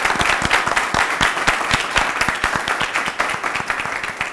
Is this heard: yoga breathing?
no